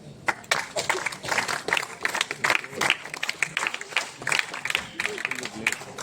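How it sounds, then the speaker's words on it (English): Audience of cadets and guests applauding a group dance performance at an IGC Vizag event, an uneven patter of clapping that rises and dips in bursts, with voices mixed in. "A huge round of applause for the group dance team."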